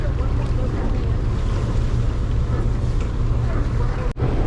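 Steady roaring wind, blowing strongly from behind at a boat harbor, buffets the microphone with low rumbling gusts, a constant heavy noise throughout with a brief dip near the end.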